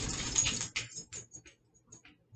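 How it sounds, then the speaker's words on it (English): A dog whimpers close by, a short run of high, nasal whines that start in a strained burst and trail off into softer, broken squeaks. "the dog is interrupting."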